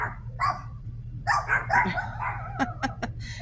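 A small dog barks and yips outdoors in several short, uneven bursts at moderate distance, with sharp clicks near the end and no speech.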